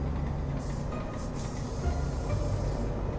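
Train in the video game Lost Odyssey, a continuous heavy rumble of rolling rail cars with a hissing air-brake burst partway through, steady and close throughout.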